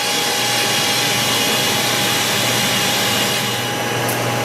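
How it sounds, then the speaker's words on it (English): A steam sterilizer's vacuum pump pulls vacuum during the final pre-vacuum pulse of a leak test, giving a steady, loud, broadband mechanical roar with a constant hum that runs unbroken throughout. "we are pulling the vacuum on the last vacuum pulse of the pre-vac"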